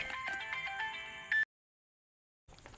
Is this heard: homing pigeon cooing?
no